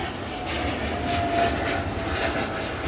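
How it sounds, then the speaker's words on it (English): A steady roar of a propeller airplane passing overhead above the water at Staten Island, New York, loud and continuous, with no voices. "Look at that airplane coming through right here."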